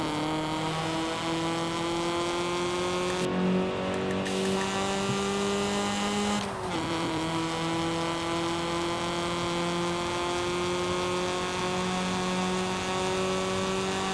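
A car engine in Forza Horizon drones steadily at high revs, a sustained tonal whine that dips briefly around a gear change midway before holding again, with no talking.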